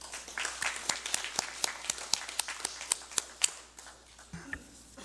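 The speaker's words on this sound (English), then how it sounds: "So let's give them a round of applause." A small crowd at a congressional session gives a round of applause, sharp individual claps in a loose, fairly even rhythm, close and clear, thinning out toward the end.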